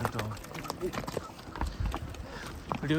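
Horse hooves clip-clop down a steep mountain trail in Baisaran valley, Pahalgam, a quick run of close hoofbeats mixed in under people talking.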